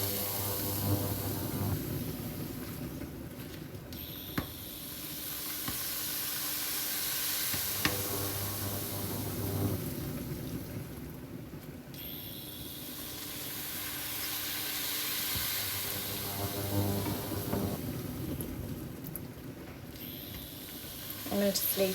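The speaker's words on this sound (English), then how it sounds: "the pork's cooking away nicely" Pork browning in a pan for a stroganoff, a broad steady sizzle that swells and eases in long waves, with occasional utensil knocks and a voice speaking at times.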